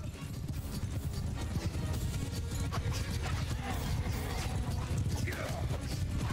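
Horse archers' hooves pound in a dense, continuous clatter from the Mount and Blade Bannerlord game, with mechanical rattles and faint crashes mixed into a busy battle din.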